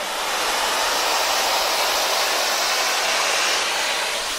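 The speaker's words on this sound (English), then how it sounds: "we're going to start our steamer" A bed bug steamer hisses steadily and loudly as it is passed over a chair, a continuous broadband rush with no breaks or voices.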